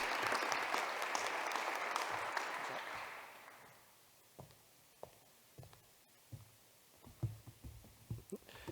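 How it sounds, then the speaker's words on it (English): An audience at a public schools' excellence-in-education awards ceremony applauds the recipients: a full burst of clapping for about three seconds that fades out, leaving scattered faint knocks and room noise. "another round of applause for all the award recipients"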